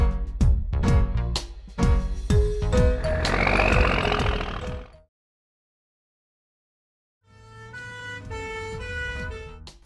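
Ambulance siren from a children's cartoon about vehicle colors, blaring over bouncy music, dropping out to silence for about two seconds, then resuming with steady wailing tones.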